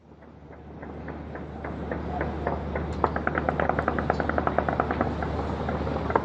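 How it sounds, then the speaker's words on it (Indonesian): Rapid bursts of celebratory gunfire crackle at a distance across Beirut, growing denser and more continuous over a low rumbling city background. "tembakan perayaan terdengar di seluruh Beirut pada hari Kamis waktu setempat"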